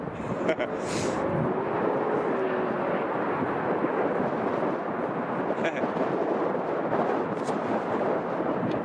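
An Etihad Boeing 777 in old livery at Chicago O'Hare gives a steady, broad jet roar that holds evenly throughout, fairly distant, with brief clicks and noises on top.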